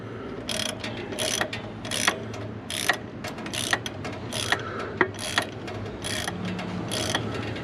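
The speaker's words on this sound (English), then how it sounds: "As you can see, it's tightening without the use of the second nut" A ratchet drives a self-tapping screw into an exhaust bracket on a Can-Am Ryker, giving rapid repeated clicks in short bursts, close and fairly clear over a low background hum.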